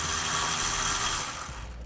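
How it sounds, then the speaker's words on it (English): A ratchet with a 13mm socket backs out bed bolts on a 2017 GMC Sierra pickup during a gooseneck hitch install, giving a loud, close, dense stream of rapid mechanical clicking and whirring that eases off slightly near the end, with no talking. "I'm going to be using a 13mm socket to remove it"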